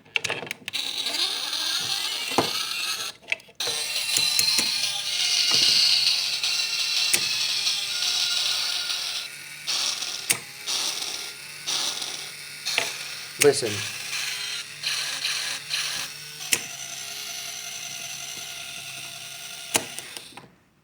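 Mechanism of a Turbotron toy robot starting its shooting action, a busy mechanical whirring with ratcheting gear clicks and clatter running throughout, close up, while a person speaks a word.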